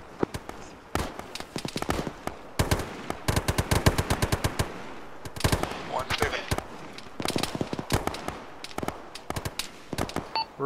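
Near and distant gunfire fills an Arma mission played by ShackTac, with rapid automatic bursts and scattered single shots crackling in an irregular rhythm, while voices talk over the shooting.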